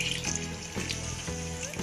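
Water poured from a tap-like stream into a vessel of sugar, about 1.5 kg of water onto 3 kg of sugar for almond sharbat syrup, a steady close splashing rush running the whole moment with no talk.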